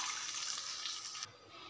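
Tamarind water pours into a pan for fish curry in a steady close splashing rush that stops abruptly near the end, with no talk.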